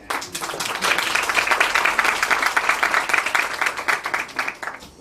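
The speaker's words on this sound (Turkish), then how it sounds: "Seni de alkışlayalım." Dense audience applause at a social sciences university panel fills the room for a speaker, a steady crackle of many hands that holds for about five seconds and tapers near the end.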